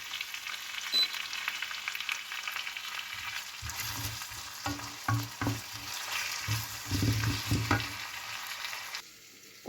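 Onions sautéing in oil with a spoon of salt for Kerala egg roast, a steady sizzle broken by clusters of stirring scrapes and spoon knocks against the pan, close up and without speech.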